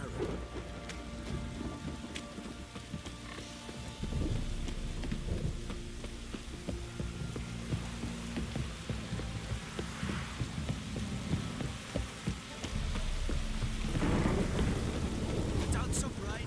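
Rain and thunder in The Witcher 3: Wild Hunt video game: continuous rainfall with deep rumbling thunder swelling at times, heavier toward the end, mixed with other game sounds.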